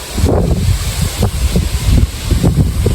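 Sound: strong wind

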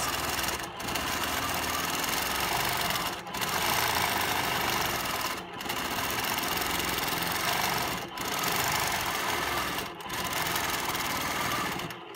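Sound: sewing machine quilting feathered swirls

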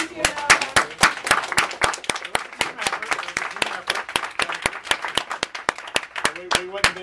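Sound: applause for the event organizer

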